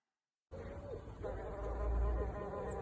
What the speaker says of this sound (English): After only a few days, a solitary bee did come and decided to check out the bee box.